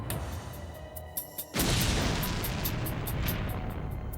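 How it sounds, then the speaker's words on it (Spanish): A parcel bomb detonates in a hallway as it is opened with a pocketknife, a sudden loud blast that cuts into a quiet room and leaves a sustained, roaring, noisy wash afterward. "La explosión fue tan poderosa que lanzó a Fowler a medio metro por el pasillo"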